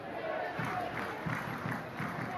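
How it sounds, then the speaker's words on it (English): A home crowd at a Liberty A-League women's football match, Wellington Phoenix v Canberra United, chants and cheers in rhythmic pulsing surges, distant and steady in the stadium. "Crowd, though, starting to find their voice in support of the home side"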